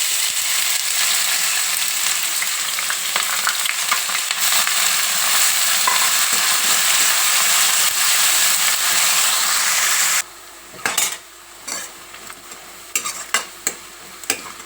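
Thinly sliced medium onions frying with whole spices in oil for a prawn masala, a strong continuous sizzle with constant stirring scrapes that gives way to quieter, intermittent clinks and spatula scrapes near the end.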